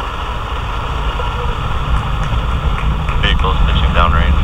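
A SpaceX Falcon 9 rocket lifting off with the Intelsat Galaxy 31 and 32 satellites: a loud, broad roaring rumble that swells steadily, with launch commentary voices over it.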